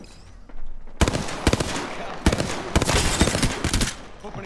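Rapid bursts of video game gunfire crackle in dense, loud volleys, automatic fire with brief gaps between strings of shots, close and dominant throughout.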